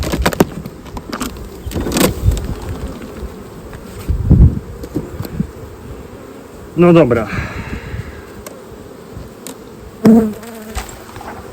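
Steady buzzing from many honeybees at an open hive fills the background, with a few brief spoken words and some clunks and handling noises nearby.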